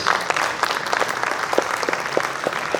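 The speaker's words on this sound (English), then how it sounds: "Well done, a round of applause." Applause at a house dinner at Aitchison College in Lahore, a dense, steady patter of many hands clapping with a few sharper individual claps standing out, sustained at moderate loudness throughout.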